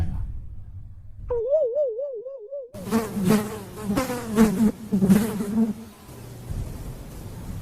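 A housefly buzzes in a comic sound effect, first as a wavering drone that rises and falls, then as a denser, louder buzzing with pulses, near and prominent, and no words are spoken over it.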